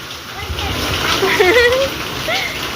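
Water splashes and splatters close by as a child jumps in a dirty rain puddle after a storm, with a voice and other talk over the sloshing.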